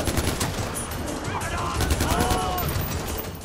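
Gunfire in the shooter game Far Cry 4 during a chaotic outpost fight: dense, loud bursts of automatic fire and single shots roll on continuously, with someone talking under the shooting.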